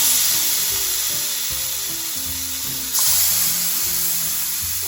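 Wagyu steaks sear in a hot cast iron pan with a little butter, giving a loud, steady sizzle that swells slightly partway through, with low background music and no speech.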